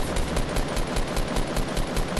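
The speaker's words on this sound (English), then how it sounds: "I'm getting shot at." Rapid automatic gunfire in Fortnite, a steady stream of closely spaced shots repeating evenly and loudly throughout with no pause.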